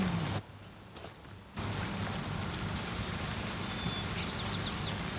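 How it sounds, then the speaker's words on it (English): Steady rain hissing down on a surface, briefly quieter near the start before resuming, with faint bird chirps in the background. "now it's starting to rain"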